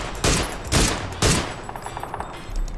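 Bursts of gunfire in a Korean-played online shooter game, three loud volleys spaced about half a second apart followed by quieter scattered shots and faint clicking.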